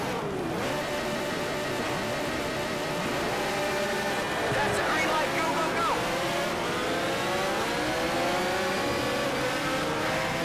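Porsche Spyder race car engine in the racing game Need for Speed Shift 2, a steady, loud drone with rising and falling pitch sweeps as it revs and shifts, running continuously throughout.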